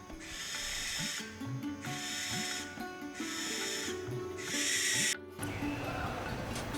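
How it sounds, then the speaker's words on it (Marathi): An owl gives a series of long, raspy, hissing screeches, about four calls in a row with short pauses, close and prominent. "लक्ष्मीचे वाहन असणाऱ्या या पक्षाची बंगालमध्ये पूजा केली जाते."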